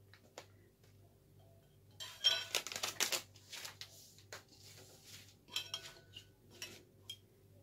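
Kombucha with its scoby tipped from a brewing kit into a cup, with soft clinks and clatters of glass and dishware in bursts over a quiet background, no talking.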